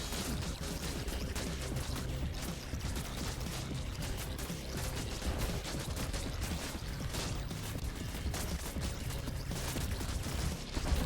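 An artillery barrage in the strategy game Buggos, a dense, continuous rattle of overlapping blasts and booms at steady moderate level with no clear gaps.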